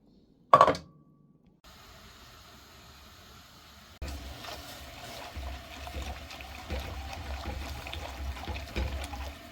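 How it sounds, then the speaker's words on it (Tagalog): Cold water poured into homemade gelatin: a sharp knock at the start, then a soft, steady trickle that grows into a fuller pour, close and fairly quiet. "lagyan na siya natin ng cold water."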